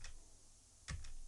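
A computer keyboard space bar pressed while scrolling through a list of companies in share-analysis software, giving a few soft, close clicks over a quiet room hiss.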